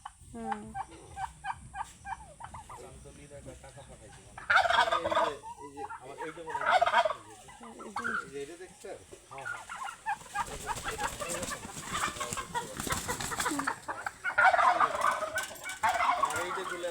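Turkeys gobbling and other fowl clucking at a bird park, a busy mix of calls rising and falling at moderate distance, with a few faint voices in the background.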